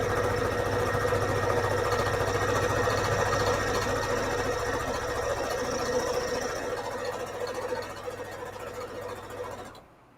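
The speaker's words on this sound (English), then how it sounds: "I'm sewing over here 1/2 inch seam" A sewing machine runs a steady, continuous stitch through a soft fabric journal cover stiffened with Peltex 72F, sewing a half-inch seam with beige thread; the close motor hum holds for about ten seconds before stopping.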